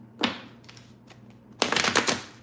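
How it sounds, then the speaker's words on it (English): Tarot cards are riffled and shuffled by hand in two bursts, a brief flutter first and then a longer, louder run of crisp card slaps, close up with a faint background hum. "Give me 3 more shuffles for Leo."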